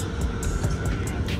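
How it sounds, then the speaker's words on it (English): Steady airplane cabin roar with low rumble and faint rattling as the plane shakes in flight, continuous and fairly loud with no talk. "this plane's shaking like crazy"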